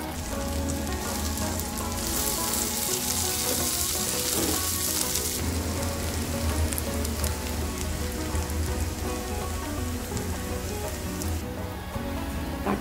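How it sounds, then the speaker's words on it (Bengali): Dried red chillies fry with jackfruit seeds in a hot oiled pan, giving a loud, continuous crackling sizzle like steady rain that stays close and even throughout, with no voices. "এই পর্যায়ে আমি শুকনো মরিচগুলো দিয়ে দিলাম।"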